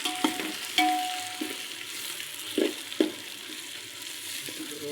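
Chopped tomatoes frying in a pan for chicken biryani, stirred now and then: a steady soft sizzle with a few scraping stir strokes, close and alone with no voices.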